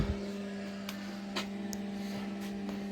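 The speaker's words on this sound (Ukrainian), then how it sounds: "Запустили вентилятор." An electric fan runs on a hot day, a steady, low mechanical hum with faint tonal whine, fairly quiet, with a few light clicks over it.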